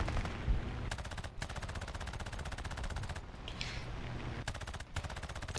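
Rapid cannon fire from a Ki-43 fighter plane in War Thunder: long, fast, evenly spaced bursts of shots crackle over a steady engine drone, with short pauses between the strings of fire.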